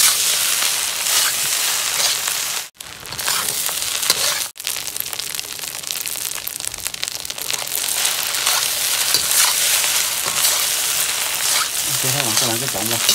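Hong Kong-style shrimp fried rice stirred in a hot pan gives a steady, dense sizzle with scraping and tossing throughout, dipping briefly twice, and a voice comes in faintly near the end.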